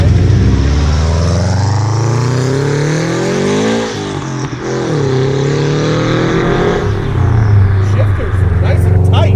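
A loud, roughly 400 hp Factory Five 818C sports car engine revs up and down, its deep growl rising in pitch, dipping briefly, then climbing again close by.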